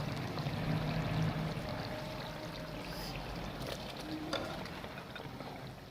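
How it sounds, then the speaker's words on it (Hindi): Urad lentils pour into a prepared spice masala, making a soft, steady rustling trickle close by for several seconds, with no talking. "अब हम इसमें दाल ऐड करेंगे।"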